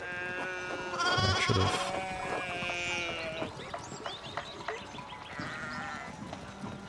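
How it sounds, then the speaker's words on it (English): Sheep in Pentiment bleat several times, loud and close at first and then in shorter, fainter calls, over quiet ambient game sound. A voice speaks briefly. "we need to get these sheep under control"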